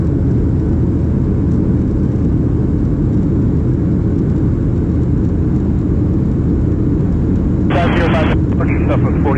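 Southwest Boeing 737-700 jet taking off from Chicago Midway, a loud continuous engine roar filling the whole stretch, with brief radio chatter crackling in near the end.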